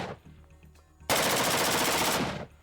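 A sustained, loud burst of .277 Fury rifle fire, about 1.4 seconds of rapid automatic shots, follows a quieter stretch of low background noise.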